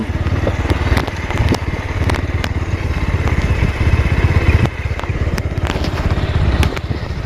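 A motorcycle engine rumbles steadily at close range as it rides downhill on a road near Dawaipani, Darjeeling, with crackling and wind buffeting throughout.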